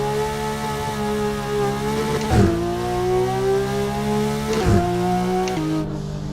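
Simulated car engine from a sound mod in the Assetto Corsa racing game, droning steadily with harmonic tones rising through the gears and two sharp shift breaks, loud and close with no talk.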